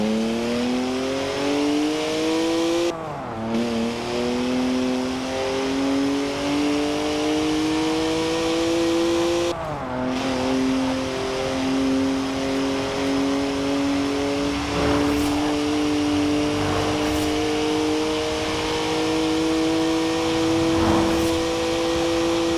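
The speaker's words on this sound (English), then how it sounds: "Three-litre straight six, 335 horsepower, 2 turbos, and as much sideways action as you like." Engine of a BMW with a three-litre twin-turbo straight six, 335 horsepower, in Forza Horizon 4, droning continuously as it climbs through the gears, with two brief shift cuts and rising pitch, loud and close throughout.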